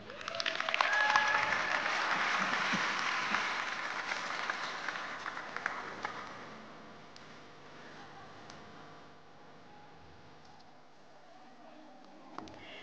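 Audience applause for speaker Mirik Snir at the ceremony naming the country's kindergarten teacher of the year, loud and dense for about six seconds, then thinning to scattered, fading claps.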